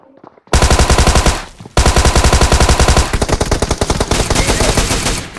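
Rapid automatic gunfire in a first-person shooter mobile game, loud sustained bursts that pause briefly and then resume, the second stretch denser and harsher, with no talking over it.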